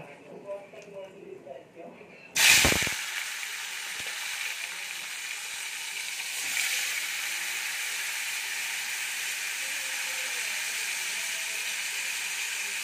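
Bitter gourd slices, salted and coated in turmeric, drop into hot oil in a wok and set off a sudden loud sizzle. The steady frying hiss then carries on for about ten seconds, with quieter sounds audible just before the slices go in.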